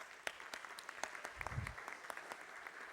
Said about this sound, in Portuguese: Uma salva de palmas para vocês agora.